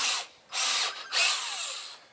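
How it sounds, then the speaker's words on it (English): A cordless drill powered by an old nickel metal hydride battery whirs in three bursts using a dull bit, stopping briefly between them, the last run longer and winding down slightly. "let's put it on this old nickel metal hydride knockhead type drill"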